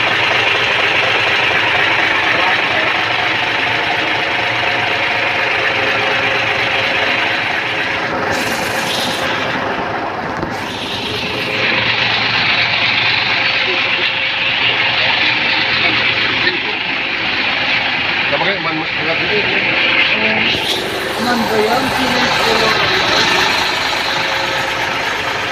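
A large Hino truck engine, in a 26-foot truck, runs loudly and steadily, a continuous rumbling drone with mechanical rattle, briefly dipping and surging.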